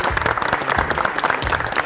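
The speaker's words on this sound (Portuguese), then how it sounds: "palmas também pro resto da molecada que amassou também" Youth football players at a trial session receive a brief burst of dense hand clapping, steady and fairly loud across the whole moment with no talking over it.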